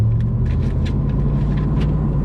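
A repaired truck engine idles steadily and close by, its low, even rumble holding without knocks or other noises.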